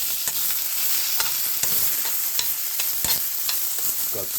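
Onions and okra frying in a pan for breakfast, with loud continuous sizzling and irregular scraping and clacking as the spoon stirs them, and no voices.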